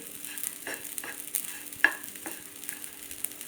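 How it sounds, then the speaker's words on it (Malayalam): Broken wheat roasts dry in a pan for upma, giving a faint, steady crackling sizzle broken by soft scraping stirs. "ചെറുതായിട്ട് ആ പൊരിഞ്ഞ് വരുന്ന ഒരു സൗണ്ട് ഉണ്ട് ഇതിൽ"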